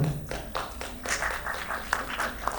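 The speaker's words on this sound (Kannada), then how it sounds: "ಆ ವ್ಯಕ್ತಿತ್ವಕ್ಕೆ ನಾವು ಎಲ್ರೂ ನಿಜವಾಗ್ಲೂ ಒಂದು ಚಪ್ಪಾಳೆ ಹೊಡಿಬೇಕು" Crowd applause at the KD The Devil film press meet, a continuous wash of clapping from many people at a steady level, with faint voices mixed in underneath.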